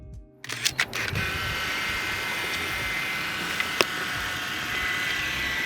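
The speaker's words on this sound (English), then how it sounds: "after taking the last shot of the roll, you can hear the camera winding the film back into itself" A film camera motor-rewinds the finished roll back into its canister, a steady continuous mechanical whir that runs throughout after a few brief clicks at the start, with no talking.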